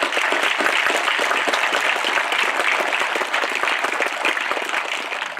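Steady applause from a sizeable crowd at a high school graduation, many hands clapping densely and evenly for the whole stretch, with no voices rising above it.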